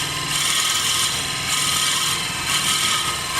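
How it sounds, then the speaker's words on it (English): A lathe drills into a stabilized wooden pen blank, giving a steady whirring, rasping grind with rhythmic swells as the bit feeds in, loud and close with no talk. "So this is a blank I stabilized last night, so it's drilling nice and easy."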